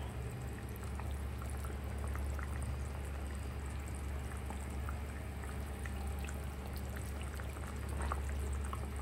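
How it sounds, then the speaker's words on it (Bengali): Desi katla fish curry boils in a pot, a steady low bubbling simmer with faint pops, continuous and quiet throughout with no voices. "এটা আরও 2 থেকে 3 মিনিট ফুটবে, রান্না করব, তারপর নামাবো।"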